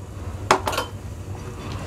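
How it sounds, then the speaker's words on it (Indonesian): A utensil stirs thickened es pisang ijo custard in a pot on the stove, giving a short metallic scrape and clink at mid-clip over a low background hum. "Ini kita aduk sebentar, kemudian kita matikan kompornya."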